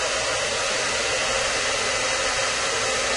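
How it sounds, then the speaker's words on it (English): A hair dryer blows steadily at close range onto a ping pong ball held in its airflow, a constant loud whooshing hum with no pauses. "Let's take a look at this with this hairdryer"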